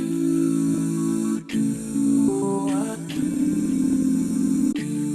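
A slow, deep-toned music sample plays steadily, its pitch lowered, with sustained chords and a brief dip in the middle.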